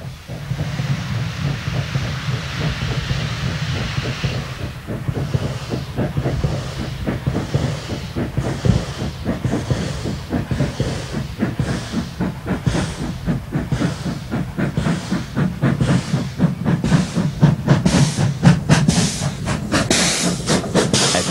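Steam locomotive 3801 works hard leaving Parkes, with loud hissing steam at first, then rapid rhythmic chuffs building in pace, close and powerful throughout.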